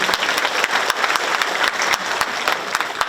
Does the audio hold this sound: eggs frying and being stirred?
no